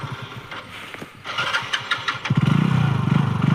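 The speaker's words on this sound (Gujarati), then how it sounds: "બાઈક ચાલુ કરીને ચેક તો કરીએ" A motorcycle engine cranks with a few short bursts, then catches and settles into a loud, steady, throbbing idle close by.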